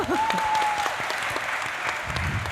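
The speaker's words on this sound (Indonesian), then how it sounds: "sekali lagi tepuk tangannya coba lebih kencang" An audience at a panel event claps continuously in a full, even wash; a brief tonal sound rises early and a low voice stirs near the end.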